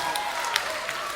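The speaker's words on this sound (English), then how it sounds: "Give yourselves a big round of applause." A live concert crowd gives a round of applause, a soft, distant wash of clapping with a few sharper claps standing out, fairly faint throughout.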